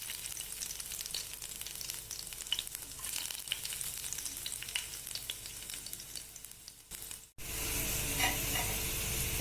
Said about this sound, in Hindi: एवं सुखिला लंका पकेबा एवं कटा रसुण पकेबा